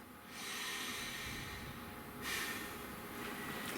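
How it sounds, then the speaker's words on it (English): A slow, deep breath drawn in and let out, airy and close, with a soft snort-like rush of air that rises, eases, then swells again, alone without talk. "Please take a nice deep breath."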